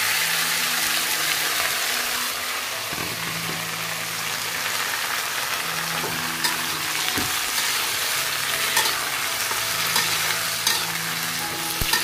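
Food fries steadily in a pan in a Bengali home kitchen, producing a continuous close sizzle like rain on a surface. Low, intermittent hums and occasional clinks sit underneath, with no speech.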